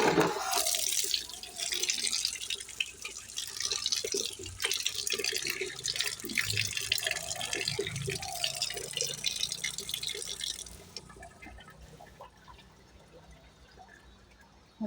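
Tap water runs steadily and close by as leaves are rinsed under it, splashing and pattering for about eleven seconds before the flow stops, leaving faint drips and quiet room sound.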